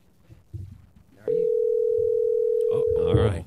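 Telephone ringing tone heard on a call, a single sustained steady tone of about two seconds, loud and close, with a voice speaking briefly before and after.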